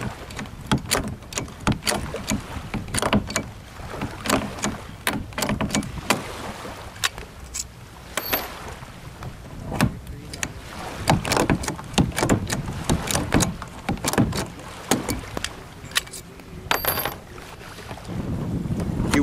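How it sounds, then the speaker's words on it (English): A rivet tool sets rivets into a kayak, giving a series of sharp, close metallic snaps and clicks at irregular intervals, with handling noise and light wind rustle between them and no talking. "Now using the rivet tool to secure the rivets to the kayak."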